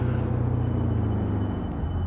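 Loud car engine in BeamNG.Drive with an eight-gear transmission, a steady low droning rumble that holds throughout, close and uninterrupted with no talk.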